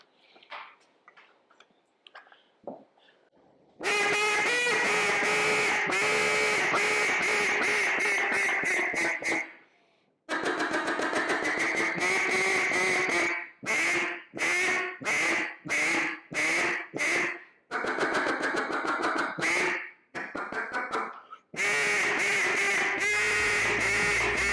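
Duck call blown after cleaning and tuning, giving loud repeated quacking bursts in rhythmic series with short pauses, preceded by a few faint clicks.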